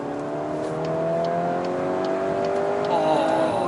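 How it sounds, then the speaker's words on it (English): A Volkswagen Golf R Mk8.5 petrol engine hums steadily at close range, its pitch sliding down then jumping as it downshifts under braking, with faint clicks over the top. "When you press the brakes, you hear the car downshifts."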